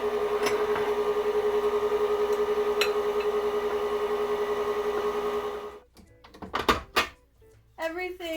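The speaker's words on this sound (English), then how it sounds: "we are going to add the dry ingredients to the mixer while it's running on low speed" Stand mixer running on low speed mixing chocolate chip cookie dough, a steady rhythmic whirring hum for about six seconds before stopping, followed by scattered clatter and a brief voice.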